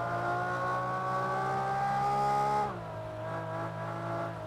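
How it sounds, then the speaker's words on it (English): Racing-game car engine revving in Project Cars 2, a sustained high engine note that holds steady and then drops in pitch, fairly loud and alone without talking. "Car doesn't move at all, although it's revving up."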